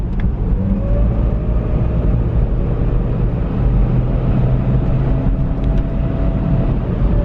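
A remapped BMW 320d diesel car pulling hard under acceleration, a dense continuous low engine drone heard from inside the cabin, steady and loud with no talk.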